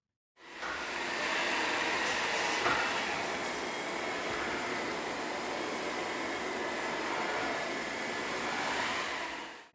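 A DJI ROMO robot vacuum cleaner runs with a steady, airy whirring hum that starts abruptly and holds at an even, moderate level for several seconds, alone with no talking.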